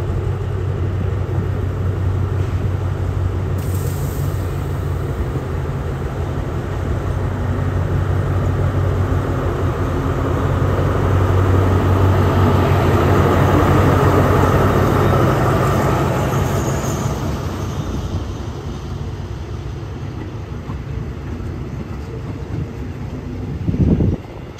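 Ordinary train 201 rolls through Bang Sue Junction station in Thailand with a loud, continuous rumble and a low engine drone that swells near the middle and then eases off, with a brief clank near the end.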